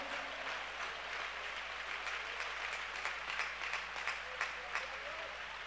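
A church congregation applauds during a Spanish-language sermon, a dense, steady wash of many hands clapping at moderate distance, with a low constant hum underneath.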